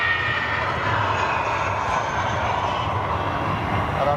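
Airbus A380 jet departing Amsterdam Schiphol in winter, a steady, loud broadband engine roar that holds without a break throughout, heard from a distance with no talk.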